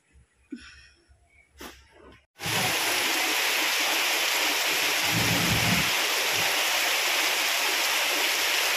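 Heavy monsoon rain breaks out in a village courtyard after a short quiet stretch, turning into a loud, steady, close downpour with a few low rumbles beneath it.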